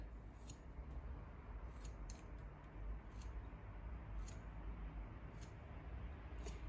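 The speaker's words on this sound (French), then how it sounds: "Donc, ici, je coupe." Scissors snipping through hair during a haircut at cheek level, a series of short crisp cuts repeating every second or so over a steady low background hum, close and fairly quiet.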